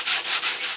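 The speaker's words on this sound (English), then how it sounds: "you take your 80 grit first and you just sand it down" Close, steady hand sanding with 80 grit sandpaper over a paint chip on a 1933 Ford Coupe under collision repair, heard as rhythmic back-and-forth rasping strokes, about four in under a second, with no voice over it.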